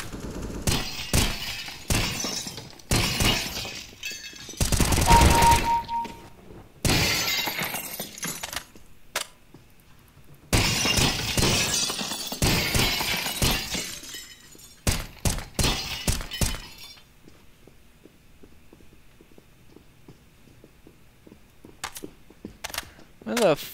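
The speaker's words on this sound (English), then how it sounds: "I'm just breaking glass" Glass repeatedly breaking and shattering in a first-person shooter video game, in loud bursts and clustered crashes across the first half, separated by short gaps, then thinning out to sparse faint clicks.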